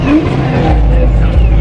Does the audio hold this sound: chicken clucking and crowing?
no